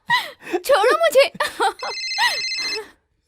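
A telephone rings with a bright electronic tone in two short bursts, following several moments of close speech by a woman in a domestic room.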